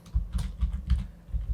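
Name being typed on a computer keyboard in a Python tutorial, a brisk run of close, crisp key clicks in quick uneven rhythm, with no talk.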